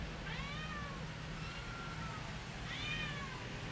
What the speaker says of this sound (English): There's a cat around the corner over here.